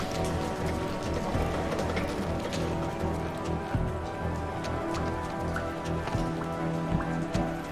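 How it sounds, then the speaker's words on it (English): Slow wading through thick sludge water in the video game Jenny LeClue, a steady sloshing, churning texture running the whole time with soft repeated splashy steps and a low rumble beneath, fairly close and continuous. "Can't go any faster in this sludge water."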